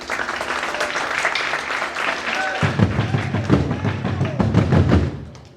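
Audience applause at an ombudsman ceremony in Burundi, dense clapping through the whole clip that grows heavier and louder halfway through before tapering off.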